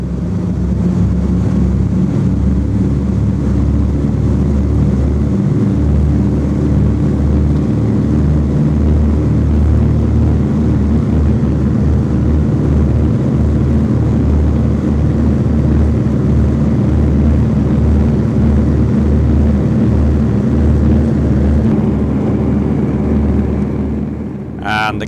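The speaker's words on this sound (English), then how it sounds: "listen once more to that lovely sound of 4 Pratt & Whitneys at full power" A B-24 bomber's four Pratt & Whitney engines roar at full power on takeoff, a dense, steady, loud drone heard from inside the aircraft without a break.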